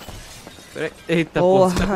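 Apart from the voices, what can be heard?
glass shattering in GTA V video game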